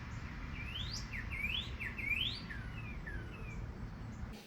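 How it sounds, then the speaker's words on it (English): A single bird gives a series of rising chirps and falling tweets over faint background hum, a sequence of short repeated notes heard alone and at moderate distance. "I literally have this clip of this bird"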